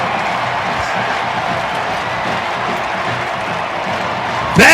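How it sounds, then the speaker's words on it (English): A college football crowd roars in a broad, distant wash of cheering and applause after a Memphis Tigers win. The crowd noise stays steady throughout, with a short loud burst near the end. "Listen to the crowd."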